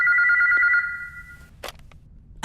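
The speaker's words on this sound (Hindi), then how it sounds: "भाभी जी का फोन आया है" A telephone bell rings loudly in a steady tone for under a second, then stops, leaving a few faint knocks and light background noise in a comic TV drama scene.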